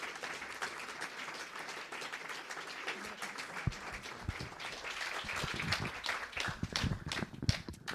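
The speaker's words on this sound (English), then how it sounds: "So if everyone could give a big round of applause to our speakers today." Audience applause for the speakers at a panel event on Palestine, a steady wash of many hands clapping that swells toward the end with some sharper close claps.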